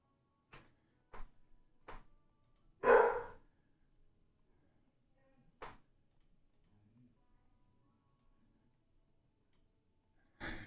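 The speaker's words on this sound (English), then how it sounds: "You can hear my dog." A dog barks in a few sharp, separate bursts indoors, one louder bark standing out, with long quiet gaps between them and no talk over it.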